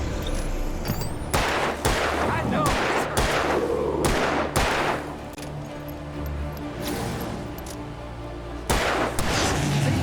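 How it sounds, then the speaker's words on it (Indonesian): Gunfire from the video game Alan Wake Remastered: a rapid series of loud, sharp shots in quick bursts, layered over a constant droning game soundtrack with no talking. "Ayo tembak itu."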